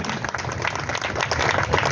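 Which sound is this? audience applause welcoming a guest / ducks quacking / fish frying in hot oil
audience applause welcoming a guest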